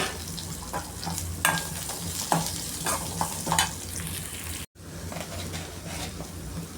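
Finely chopped onion fries in oil with green chillies for idli kurma, a continuous close sizzle broken by scattered spoon taps and stirring scrapes, with one brief dropout near the end.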